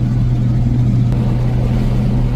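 A Nissan 350Z V6 with a Cobra exhaust gives a loud, steady low engine drone, close up, holding an even pitch throughout without a clear rise.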